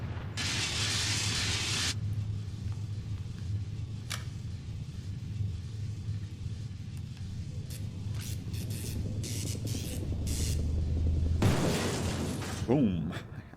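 The perforator is destroyed in the video game Alone in the Dark: The New Nightmare with a loud, bursting, shattering blast. A second heavy burst comes later, with scattered mechanical clanks and debris between them.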